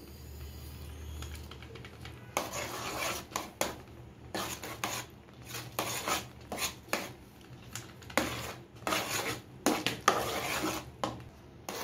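Carrot halwa is stirred in a pan as it dries, giving a busy run of scraping and tapping of a spoon against the pan, close and fairly constant with brief pauses, faint low hum underneath.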